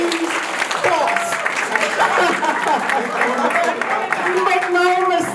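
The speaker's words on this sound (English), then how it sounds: "Let's give her a round of applause" Applause from a crowd at a community center opening ripples steadily throughout, with people chattering and talking over the clapping.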